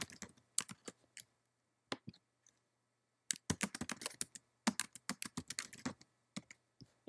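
Computer keyboard typing in quick irregular bursts of crisp key clicks, close and clear, with a short pause in the middle and no talk.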